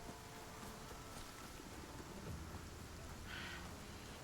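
A storm in the survival video game Icarus, with steady rain hissing faintly and a soft rumble of thunder partway through, quiet and continuous without talk.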